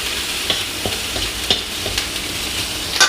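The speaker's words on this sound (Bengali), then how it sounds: "পেঁয়াজ মরিচ কষাচ্ছি" Onion and green chili frying with spices in a pan, a steady close sizzle with stirring scrapes and spoon clinks at regular intervals.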